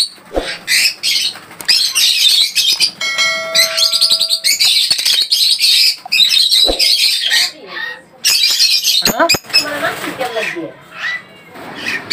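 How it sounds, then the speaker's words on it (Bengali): Dense chorus of caged birds and pigeons at the Tongi bird and pigeon market, with loud overlapping squawks, chirps and tweets filling nearly the whole stretch, a few brief pauses, and occasional wing flaps and voices in the crowded background. "আজকে চলে আসলাম টঙ্গী বাজার পাখি এবং কবুতর হাটে"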